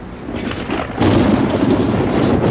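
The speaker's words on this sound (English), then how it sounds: "Thunderstorms are nature's way of bringing us rain." Thunder from a thunderstorm rolls loud and close, a sustained low rumble that swells partway through and continues without break.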